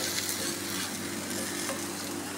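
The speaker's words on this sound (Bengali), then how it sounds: "এই যে এইভাবে চালতে হবে মরিচগুলা।" Dried red and fresh green chilies are stirred in a dry pan with no oil, giving a steady loud hiss and scraping rustle with faint clinks, close by and with no voices.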